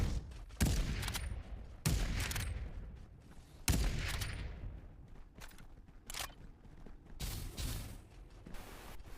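Gunfire in the Farlight 84 battle game: several sharp bursts of shots spaced a second or two apart, strong at first then quieter and sparser, over a low mechanical background.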